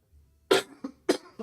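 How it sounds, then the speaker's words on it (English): Two sharp coughs, close and loud, each trailed by a short wheezy catch, in an otherwise quiet room. "need to stop coughing on my stream"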